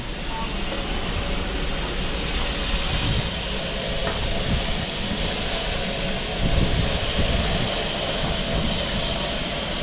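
Steam locomotives, including 41312 and Merchant Navy class 35005, chuff and hiss at close range, a dense roaring wash of steam and rumbling train noise with faint voices underneath.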